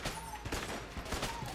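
Rapid Winchester rifle shots in Enter the Gungeon, a string of sharp bursts, about five or six fired in quick succession, loud and close over a busy game backdrop.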